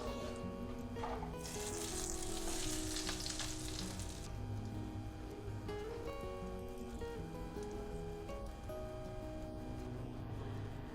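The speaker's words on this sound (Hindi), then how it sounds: "10 सेकंड वेट करने के बाद डालेंगे 1 teaspoon Kashmiri red chilli powder. बस तुरंत हम इसको मिला के मिक्स कर देंगे," Kashmiri red chili powder hits hot oil and is stirred in quickly, giving a steady close sizzle with a brighter burst of crackling hiss early on and light scraping of the spoon throughout, no talking.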